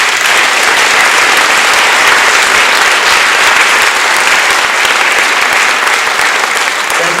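A high school athletic awards ceremony audience gives seniors a loud, sustained round of applause, dense clapping from a large crowd filling the hall at constant strength from start to finish.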